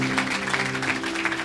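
A church congregation at an evangelistic service claps loudly and steadily, a dense wash of many hands over a sustained musical drone.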